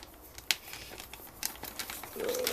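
Close crinkling of a plastic bag holding a plated exhaust pipe from a Yamaha Thunderace engine rebuild, with sharp rustles and crackles in irregular bursts as it is handled.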